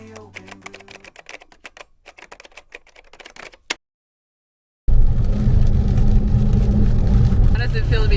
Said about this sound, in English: How does it feel to be driving a Challenger in the pouring rain?